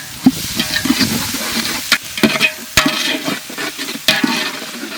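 Ginger garlic paste fries with onions and tomato in a pan for mutton soup, a close, steady sizzle broken by repeated sharp scrapes and clanks of stirring.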